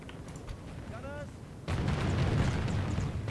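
Gunfire and artillery booms in a Warhammer fantasy strategy battle on a Wissenland campaign, starting as a low distant rumble and swelling abruptly into a louder, sustained roll of firing partway through, with a brief whistling tone before the surge.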